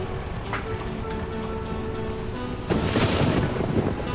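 Heavy rain in Euro Truck Simulator 2 hisses steadily over a low engine drone, swelling into a louder rumbling burst of thunder partway through.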